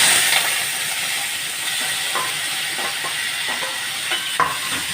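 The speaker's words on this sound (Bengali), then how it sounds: "চিংড়ি মাছটা নুন হলুদ দিয়ে মেখে রেখেছি আর কড়াই তেল গরম হচ্ছে, এটা ভাজতে দেব।" Shrimp coated in salt and turmeric fry in hot oil in a kadai, giving a steady, close sizzling hiss that holds throughout, with a few soft stirring clicks and no talk.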